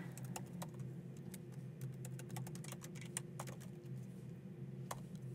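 Steady keystrokes on a computer keyboard, irregular clicks and taps close by, typing over a constant low hum with no talking.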